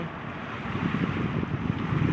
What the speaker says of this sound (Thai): วันนี้ลมแรงนิดหน่อย